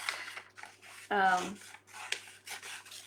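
Scissors snip paper along dotted lines in short, close, rasping cuts, one longer cut standing out among several quick snips, with soft handling noise between them.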